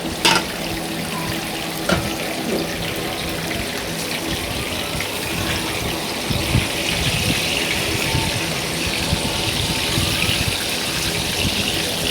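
Eggplant fries in a pan with a constant dense sizzle, close and fairly loud, and a few sharp crackles and pops over the hiss, with no talking.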